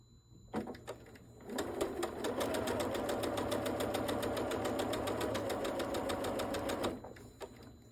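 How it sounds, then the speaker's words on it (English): A sewing machine stitches curved quilt fabric, its rapid needle chatter running steadily for about six seconds between short pauses, close and moderately loud. "We're going to just line up our fabric again, and then we'll continue sewing."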